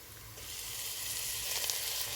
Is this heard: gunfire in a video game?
no